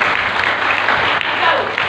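A church congregation at a pastor's sermon breaks into brief applause, a dense, even wash of clapping that lasts under two seconds, with a voice faintly underneath.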